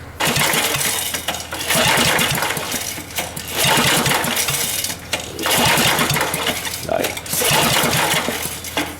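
A scrap Coleman generator engine being revived is cranked over in four long bursts, each a loud rapid chugging churn that stops briefly and starts again, with someone talking at times.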